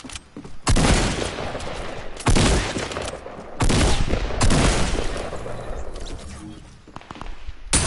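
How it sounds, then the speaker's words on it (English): A drum gun in Fortnite fires in three long, loud automatic bursts, each a rapid rattling stream of shots separated by brief pauses. "that drum gun sound"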